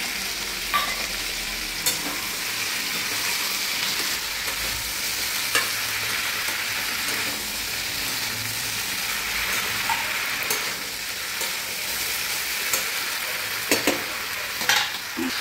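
Vegetables and peas stir-fry in a hot pan, a constant close sizzle with scattered sharp clicks and scrapes of a spatula stirring throughout, without talk.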